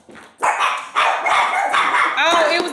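Dog barking loudly and close indoors in a home, a run of several sharp barks in quick succession with a higher whining yelp toward the end.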